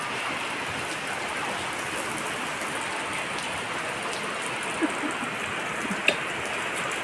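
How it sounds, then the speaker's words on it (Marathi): Heavy monsoon downpour pours steadily, a dense continuous hiss of rain drumming on surfaces nearby, with a couple of brief louder drips and no talking. "किती जोराचा पाऊस चालू आहे आमच्याकडे."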